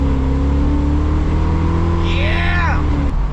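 A 1999 S-10 truck with an LS engine swap revs hard and loud, its pitch climbing and then dropping off, while a voice briefly shouts over the engine.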